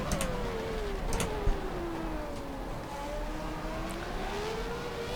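Williams FW14 Formula One car in the rFactor 2 racing game at Estoril, its high-revving engine whining steadily as pitch sweeps down and climbs again through gear changes, loud and continuous with no talk.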